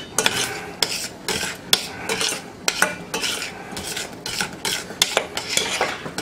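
A metal spoon stirs creamed onions in a pot, scraping steadily against the sides and bottom with rhythmic strokes and sharper clinks at intervals, loud and close with no talking.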